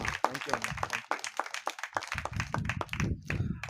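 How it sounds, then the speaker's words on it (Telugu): An audience at a thanksgiving prayer gathering outside a home claps to thank a priest, a short burst of close, uneven hand claps mixed with voices. "మరొకసారి గట్టిగా చప్పట్లు కొడుతూ ఫాదర్ గారికి కృతజ్ఞతలు"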